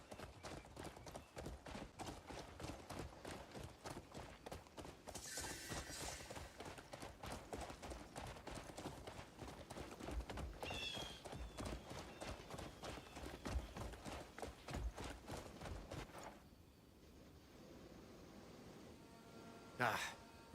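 A horse trots in the video game Crimson Desert, its hooves striking in a rapid, steady clip-clop rhythm for most of the stretch before easing off, with faint game ambience and occasional talk in the background.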